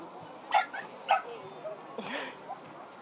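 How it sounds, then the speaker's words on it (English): Dogs barking outdoors on a Sunday walk through a cherry tree garden in Roihuvuori, Finland: two sharp yips close together, then softer whines and a more distant bark over light outdoor ambience. "The dogs have their say as well today."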